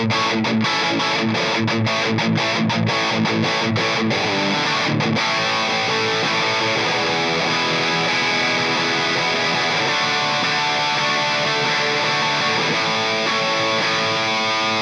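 A Gibson Les Paul electric guitar from 1957 or 1958, played through heavy distortion: loud, sustained overdriven chords ringing out with a few choppy strummed hits at the start, alone with no talk.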